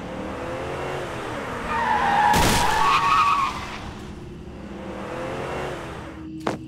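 A car skids with a loud tire screech and a sudden impact as it strikes a woman, a horror story sound effect. The squeal swells over a steady engine drone, a sharp hit lands in the middle, and a second brief knock comes near the end.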